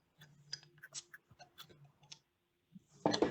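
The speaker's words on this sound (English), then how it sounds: "I hear you typing" Someone types on a computer keyboard during a sports podcast conversation, with light, irregular clicks tapping out quietly, then a louder, denser burst of keystrokes at the end.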